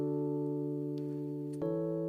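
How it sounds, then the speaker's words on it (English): A digital keyboard in piano mode with effects switched off plays sustained chords that ring steadily, then shift to a new chord near the end, with no talking. "So I'll just play these chords."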